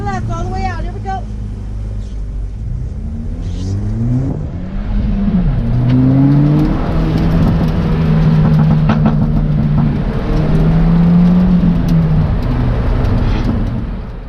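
A Ford Fiesta ST accelerating hard on a race track at Chuckwalla Raceway, its engine note climbing loud and close through rising revs and gear changes, with road and wind noise throughout.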